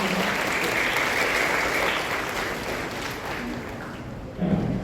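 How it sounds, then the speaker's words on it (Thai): An audience at an outdoor Buddhist ceremony in Chiang Mai claps steadily in a broad, even wash of applause that eases slightly, then swells briefly near the end. "ขอเสียงปรบมือเป็นกำลังใจให้กับเราด้วยนะคะ"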